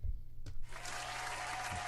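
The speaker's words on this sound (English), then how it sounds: "I think we should give him a round of applause." Audience applause at a community gathering honoring a Meals on Wheels volunteer, a steady wash of clapping that swells after a brief opening burst and holds through to the end.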